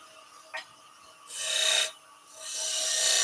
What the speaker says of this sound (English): we're going to put those marks in with a skew and then we'll burn them in